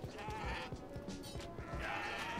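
Goats in the video game Kenshi bleat in a few wavering, nasal calls, fairly loud over a busy layer of game combat noise with repeated low thumps.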